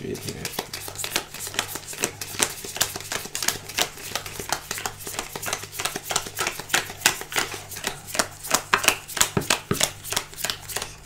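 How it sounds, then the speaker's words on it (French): Yu-Gi-Oh trading cards are counted by hand, a quick steady run of crisp card flicks and snaps that speeds up toward the end, with speech underneath. "Alors maintenant, on va compter le nombre de cartes."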